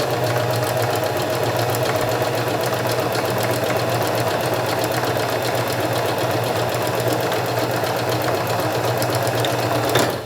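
A sewing machine runs steadily while stitching a zigzag seam finish along a fabric edge, a constant close mechanical whirr and rapid needle chatter holding at even loudness for about ten seconds with no talking.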